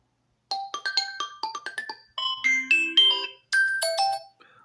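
A series of short preinstalled ringtones from a Xiaomi Redmi 9C phone played one after another, bright chiming melodies with brief pauses between them.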